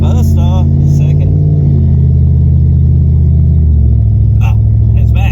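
A Ford F150 pickup with transmission trouble accelerates on a test drive, its loud, steady engine drone rising in pitch and then dropping as it shifts gears, with brief voices over the engine.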